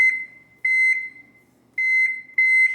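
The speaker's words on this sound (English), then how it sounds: "And I'm going to set my timer for 45 minutes." A kitchen timer being set for 45 minutes, giving a series of high, clear electronic beeps in short bursts with brief silent gaps between them, close and alone.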